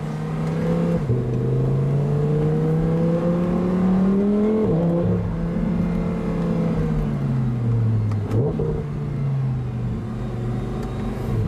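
A convertible car's engine drones steadily, its pitch rising and falling as it revs and eases off, echoing as it passes through an enclosed underpass.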